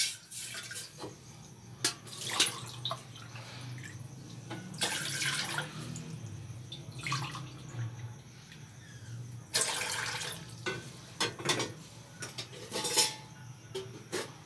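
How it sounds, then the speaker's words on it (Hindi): About three cups of water splashing into a metal cooking pot for Kashmiri pink tea, heard as several loud gushing bursts with clinks of the pot and utensils in between. "कश्मीरी चाय बनाने के लिए हम एक बर्तन लेंगे, उसमें तकरीबन 3 कप पानी ऐड करेंगे"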